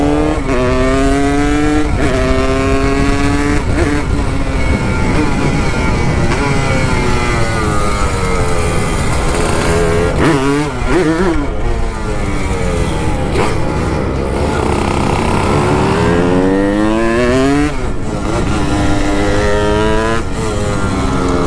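A Yamaha RD 135 two-stroke motorcycle accelerates hard on a race track, its loud buzzing engine climbing through the gears again and again, then dropping and winding back up, close and continuous for the whole stretch with no talk.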